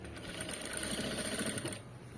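A sewing machine stitches thread piping in steady, rapid mechanical runs, close and fairly quiet, stopping near the end with no talk.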